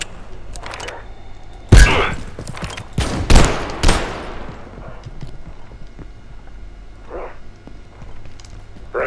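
Gunfire in the video game Abiotic Factor: a few sharp, loud shots bunched together near the start, then quieter scattered sounds and faint bursts, with no talk.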